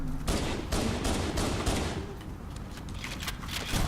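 Rapid volleys of shotgun blasts ring out in Halo: Combat Evolved Anniversary, several loud bursts in close succession over a dense, busy combat backdrop with no talking.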